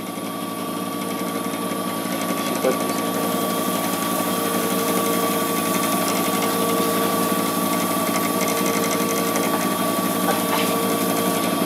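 A wood lathe spins steadily while a pen blank is sanded with 320 grit paper, giving a continuous mechanical whir with a fixed tone and light friction hiss, alone and unchanging throughout.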